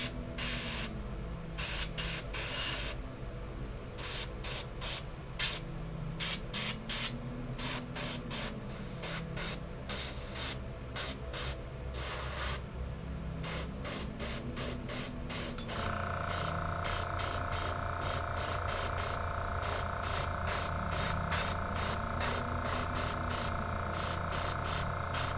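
Airbrush-style paint spraying onto a shirt comes in repeated bursts of sharp hiss, short and longer pulses over about twenty-five seconds, close and loud, with a soft hum running underneath.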